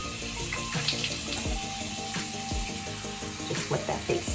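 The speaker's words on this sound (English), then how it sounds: "I'm gonna go ahead and put some lukewarm water on my face." Lukewarm water runs steadily from a bathroom tap into a sink during a morning face wash, with splashing and small knocks at a moderate, close level and no talking.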